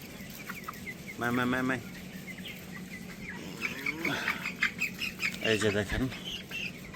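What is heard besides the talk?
broiler chickens clucking in a poultry shed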